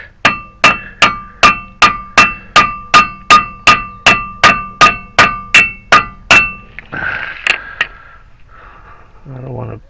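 An old handle-less screwdriver is hammered between Honda Fit CV axle parts: about sixteen loud, evenly spaced ringing metallic strikes, followed by scattered lighter clinks and shuffling noises, with no speech over the blows.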